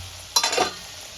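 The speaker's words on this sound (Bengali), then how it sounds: "একটু নেড়ে দেবো। আলুগুলো আমার মোটামুটি এভাবেই ভালো করে ভাজতে থাকবে।" Potatoes fry in a covered pan over low-to-medium flame, a brief burst of sizzle and stirring rising sharply for a moment then settling back to a faint hiss.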